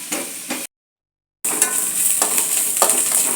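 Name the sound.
frying coconut and onion in a pan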